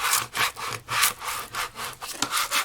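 A scraping tool rubs back and forth across acetate in a craft shadow box project, giving about eight rhythmic close rasping strokes, loud with no talking.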